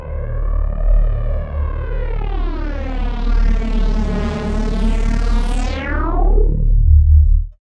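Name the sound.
modulated short delay effect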